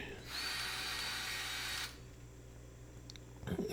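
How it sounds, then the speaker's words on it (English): A Milwaukee cordless grease gun pumps grease into the fittings of a compact SHY20 machine, its motor whining steadily and close for about a second and a half before cutting off, followed by a brief clatter. "I'm just going to use my Milwaukee grease gun there"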